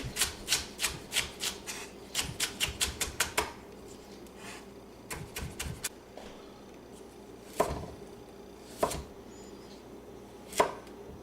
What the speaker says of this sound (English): Leeks, just a small random dice like this.